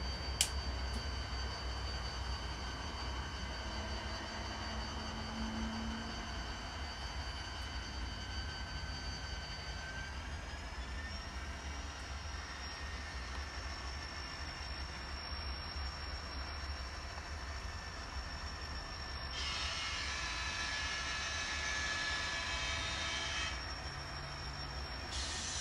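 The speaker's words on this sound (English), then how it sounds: "we'll shove these 3 cars down onto the" Three freight cars are shoved along track during switching in Chillicothe on Thanksgiving Day, with a long sustained wheel squeal shifting in pitch, low rumble, and a harsher grinding burst near the end, moderately distant.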